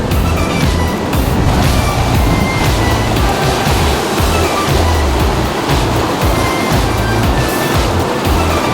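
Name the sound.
Manavgat waterfall, water crashing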